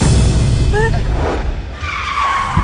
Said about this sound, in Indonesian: saya nggak sengaja ngerem mendadak